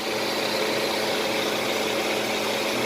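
A Hyundai Accent with a faulty automatic transmission gives a steady, dense hum with a broad engine drone underneath, constant and loud with no talk over it.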